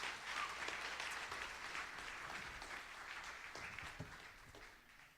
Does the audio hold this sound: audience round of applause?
yes